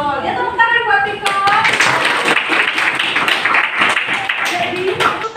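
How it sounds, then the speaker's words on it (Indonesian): Classroom applause for a student during a teaching practice lesson on making instant noodles, a burst of hand clapping from a small group, with a teacher's voice heard at the start. "Ya, tepuk tangan buat Kiko."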